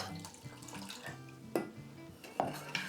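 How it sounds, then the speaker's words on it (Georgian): Water and lemon juice are poured onto sugar in a kitchen, giving a soft running trickle with a couple of sharp clinks against a bowl or pot, close and fairly quiet. "შაქარი და სითხე, სადაც არის ლიმონის წვენი და წყალი, დავუმატოთ ახლა ჩვენ შაქარს."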